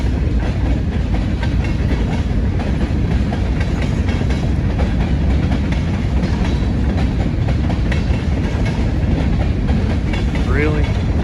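Freight train headed by four GE wide-cab locomotives rolling past CSX and NS yards in Hagerstown, Maryland, a steady loud rumble with rhythmic wheel clatter throughout, near and continuous, with some faint voices mixed in.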